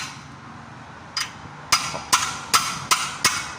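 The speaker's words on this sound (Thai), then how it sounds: "เอาค้อนตีเข้าไป" A hammer strikes metal six times in a steady, fairly quick rhythm during brake repair on a Nissan Frontier, each blow a sharp ringing clank over a quiet background.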